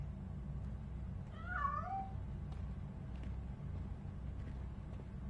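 A single drawn-out cat meow in the game RoboCop Rogue City rises and falls once, soft and somewhat distant, over a constant low rumbling background with faint scattered ticks.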